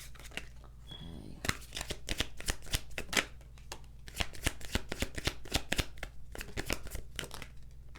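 A deck of tarot cards is shuffled in a series of crisp riffling bursts and soft slaps, close up and steady, with a brief quiet gap near the start and no talking over it.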